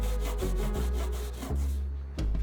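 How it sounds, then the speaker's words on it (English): An old jigsaw blade is scrubbed with a scouring pad in quick, rhythmic back-and-forth rasping strokes, close and fairly quiet over a low steady hum. "I cleaned it up using the scouring pad"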